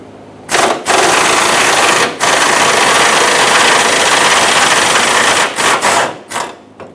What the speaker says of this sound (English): Remove this 14mm bolt that holds the strap on the outer part of the strap here